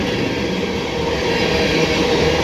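Loaded CSX ethanol freight train on the old B&O mainline, led by two locomotives with a third at the rear, heard as a steady loud rumble and roar of rolling cars passing close by, with no voices.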